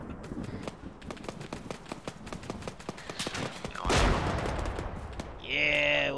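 Gunfire in a shooter video game: a long run of sharp, evenly spaced shots, then a loud blast-like burst. A voice speaks briefly at the end.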